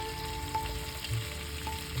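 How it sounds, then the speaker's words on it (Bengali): Potatoes fry slowly in a pan with a soft, low, continuous sizzle and light stirring, quiet and close with no talk. "আলুগুলো আস্তে আস্তে আমি কষিয়ে নেবো ভালোভাবে।"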